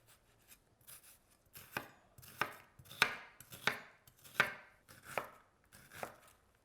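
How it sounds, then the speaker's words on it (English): A knife rough-chops a white onion on a board, about ten crisp, evenly spaced chops close up, growing slightly firmer toward the middle, with no talking. "I'm just gonna do a little bit of chopped white onion"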